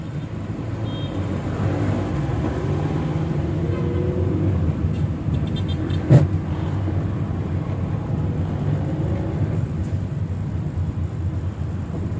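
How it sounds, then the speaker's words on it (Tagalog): Heavy, slow-moving road traffic on a city street in Buhangin, Davao, heard from inside a car creeping along at low speed, a steady engine and road rumble throughout with a brief bump midway. "kaya dito nga grabing traffic ngayon"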